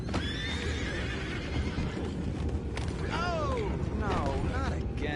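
Horses whinny and neigh repeatedly in a video game, several rising and falling calls over a constant rumbling background with hoof clatter, fairly close and loud.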